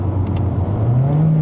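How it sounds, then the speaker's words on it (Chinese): A Mazda CX-30 High Plus Premium engine roars loudly and steadily as it revs, the drone climbing in pitch toward the end of the short burst, close and continuous with no talk. "就那种引擎的那种咆哮声啊"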